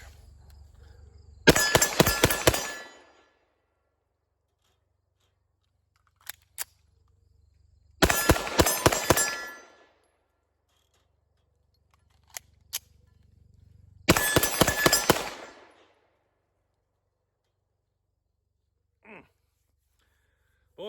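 Three quick bursts of five pistol shots each from SA-35 and CZ 75 handguns, loud and close, with sharp cracks separated by long quiet gaps and a few faint clicks between strings.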